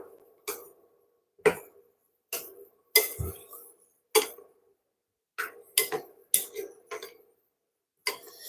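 A utensil stirring a strawberry dessert garnish mixture in a pan makes sparse, separate clinks and taps against the pan, quiet and irregular with silence between them.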